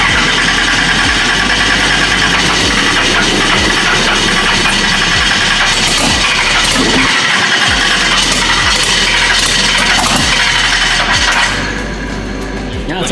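Race car engine in a shop, cranking with rhythmic starter thumps under a loud, dense mechanical roar that runs steadily before easing slightly near the end.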